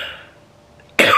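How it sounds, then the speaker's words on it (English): A single sharp, loud cough bursts out close by after a moment of near quiet. "As soon as I start vlogging, I start coughing"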